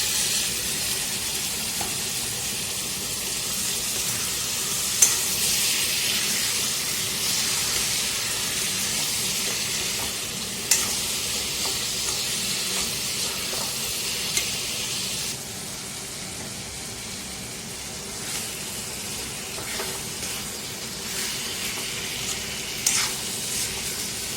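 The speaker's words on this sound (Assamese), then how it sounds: "ধুনীয়াকৈ ভাজি আছোঁ।" Marinated goat mutton frying in a pan for an Assamese-style mutton curry: a steady, close sizzle and hiss runs throughout, with occasional clinks and stirring scrapes over the constant crackle.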